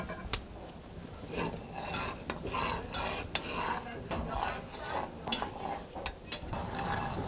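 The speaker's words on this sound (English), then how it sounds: "Constant stir more for at least 15 minutes" Spoon stirring a pot of hudut soup with okra, a Belizean fish dish, with repeated scraping and clinking against the pot and a light sizzle, close and fairly quiet, no talk.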